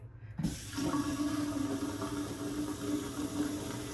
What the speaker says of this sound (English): let's see, we finna wash my hands